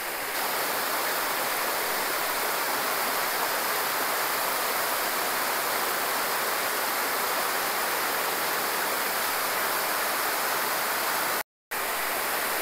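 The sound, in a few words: water falling at a waterfall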